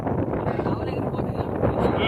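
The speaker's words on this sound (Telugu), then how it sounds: "ఫుల్ వర్షం పడుతుంది, గాలి వస్తుంది, వర్షం పడుతుంది." Strong wind roars over an outdoor camp atop a water tank during heavy rain, a continuous, loud, buffeting rush close to the microphone.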